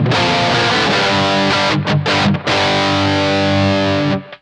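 An electric guitar played through the effects loop of a Headrush and Bluguitar Amp1 rig, heavily distorted, sustained chords ringing loud and close with two brief breaks before fading out.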